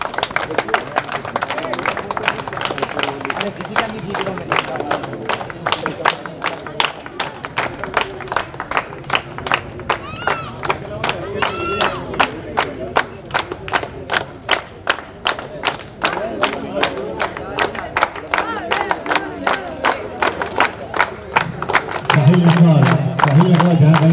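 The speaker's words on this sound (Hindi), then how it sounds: "तालियों की गड़गड़ाहट" Applause and cheering rise from a crowd at a state-level volleyball tournament in Ambamata, Udaipur, with sustained rhythmic clapping that continues for a long stretch while an announcer talks over it.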